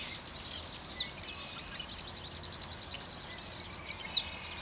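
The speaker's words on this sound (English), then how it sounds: "For reference, here's what a yellow warbler is supposed to sound like." Yellow warbler song: two bright, rapid bursts of sweet, rising whistled notes, each a quick run of several phrases, separated by a quiet pause, heard clearly and alone.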